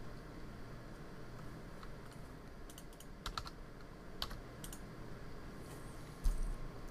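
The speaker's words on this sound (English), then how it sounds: "I can use keyboard shortcuts L and U after choosing Face Select mode or pressing 3 on the keyboard." Keyboard shortcuts typed on a computer keyboard during 3D modeling work: sparse, quiet individual key clicks and short taps spaced irregularly over a faint background hum, ending with a slightly louder press.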